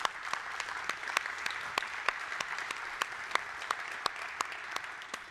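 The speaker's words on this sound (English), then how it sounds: "So if y'all could give them a round of applause, I'd be grateful." Audience applause at the close of a Google I/O conference talk, a small room of clapping with sharp individual claps standing out at a steady, even pace from start to finish.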